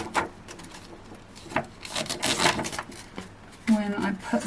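Scored card stock is folded up during festive crafting, with close, dry creasing and rustling paper rubs in short bursts, a person talking quietly in between.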